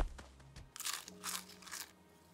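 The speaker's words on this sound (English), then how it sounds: "I love how meat makes a crunching sound." Crunchy bites of meat being eaten in the survival game Muck, a few short crinkly crunches at moderate volume with no talking.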